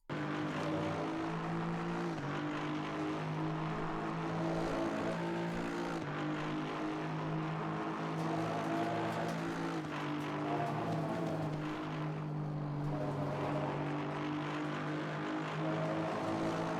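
Aston Martin V8 GT3 race car engine in Assetto Corsa Competizione on a hot lap at Silverstone, a loud continuous high-revving drone with gear shifts every couple of seconds, heard from a chase view with no talking.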